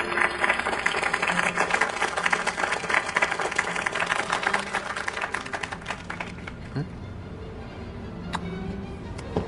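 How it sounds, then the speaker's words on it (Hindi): Dense applause from an audience at a formal event fills the clip, steady clapping with a crisp, crowded texture that thins out toward the end, with voices mixed in beneath it. "हमारे लिए नृत्य का नेतृत्व करने के लिए तालियां बजाइए।"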